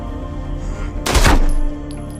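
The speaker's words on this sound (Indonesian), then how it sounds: "James pun menghabisi Rusty dengan menembak tepat di tempurung kepalanya." A single sharp gunshot, a shot to the head in a film scene, bursts out loud and close with a brief echoing tail over a low background.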